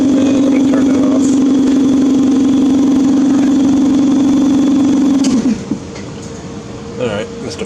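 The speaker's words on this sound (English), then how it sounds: "Alright, Mr. Compressor." An air compressor runs steadily with a loud, constant hum through most of the stretch, then cuts off near the end, and quieter background sounds follow. No one speaks.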